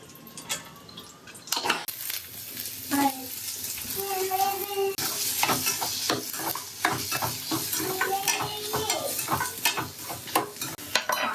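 Whole garam masala spices sizzle in hot oil while being stirred for a green chicken curry. Steady frying hiss runs throughout, with frequent close clatter and scraping from the stirring.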